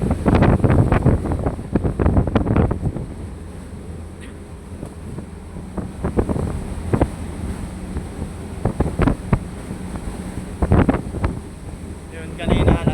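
Strong typhoon wind from Typhoon Tino buffets the microphone in a steady roar, with gusty surges throughout and people talking intermittently over it.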